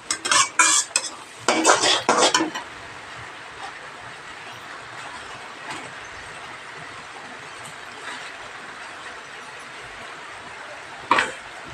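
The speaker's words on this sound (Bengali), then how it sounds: "তাই মশলাটাকে ভালো করে কষিয়ে নিতে হবে" Ground spices for a vegetarian khichuri are stirred and fried in a pot, with a few sharp scraping bursts at the start, then a low, quiet sizzle and one more scrape near the end.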